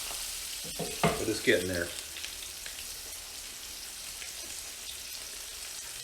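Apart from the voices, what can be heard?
smoked reverse sear ribeye steak searing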